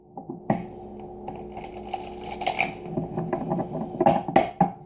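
Tarot cards riffle and slap together in quick bursts, with soft rustling between, then a final flurry of shuffling.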